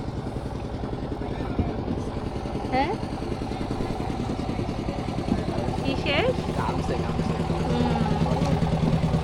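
A machine-powered boat engine drones steadily at a low, even pitch, close and continuous on the river trip from Jaflong Zero Point, while people talk briefly over it.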